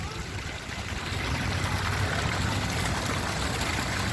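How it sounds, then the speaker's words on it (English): A small waterfall beside a yacht club dock in Kelowna gives a steady, close rush of splashing water that holds even and unbroken throughout, with no voices. "Nice little waterfall and everything."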